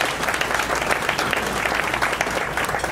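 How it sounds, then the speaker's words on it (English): Audience applause at a city chamber of commerce event for a State of the City address, a steady, moderately loud round of clapping from a crowd filling the room throughout. "Let's give them a round of applause for work well done."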